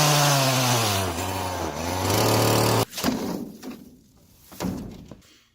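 A gas landscape trimmer engine with a new primer bulb runs loud and steady, its pitch sagging as it bogs, then cuts out, followed by a few clunks and faint handling noises.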